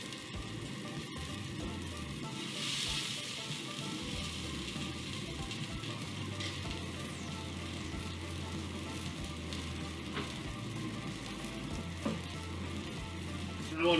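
Cooked noodles and sausage sizzle quietly in a pan, a low, steady crackle that runs unbroken with no talking.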